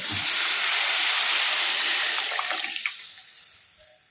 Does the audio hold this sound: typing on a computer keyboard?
no